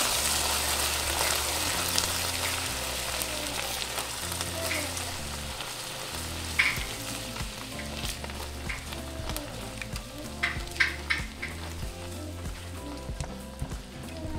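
Pinto beans cook in a pan with onions for Mexican hot dogs, giving a steady, close sizzle and frying crackle with a few stirring scrapes and clinks throughout.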